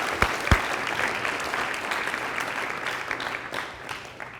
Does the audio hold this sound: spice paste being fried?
no